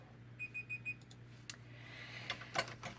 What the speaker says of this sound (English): there's that beeper.